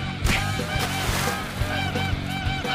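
Loud, overlapping honks from cartoon geese, several birds calling in quick repeated bursts, close by and noisy throughout.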